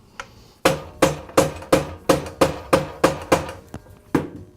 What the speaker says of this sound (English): I just need to finish tapping it into place so it's centered between the housing